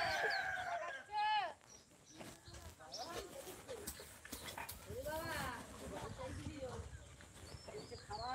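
Chickens calling from a village flock, with clucks and a rooster crow mixed with a barking dog, while people talk excitedly over the birds throughout.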